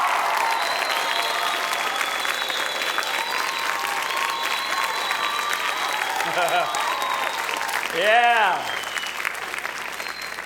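Audience applause and clapping at a live relationship seminar, steady throughout with a brief surge near the end, while a voice speaks briefly over it.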